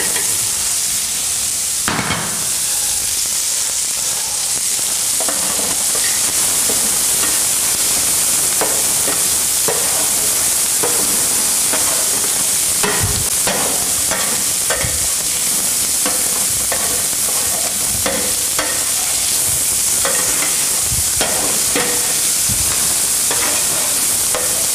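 Chopped onion sizzles and fries in a paella pan while being stirred, with steady frying hiss and repeated scraping, clattering strokes of the utensil against the pan throughout, close and fairly loud with no talking.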